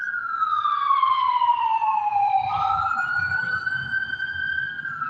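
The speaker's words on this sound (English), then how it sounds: "I've seen sometimes when the ambulance sirens go off" An ambulance siren wails steadily and loudly, its pitch sweeping down then rising again, with a faint low rumble of traffic beneath it.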